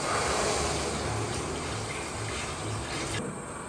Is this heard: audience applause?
no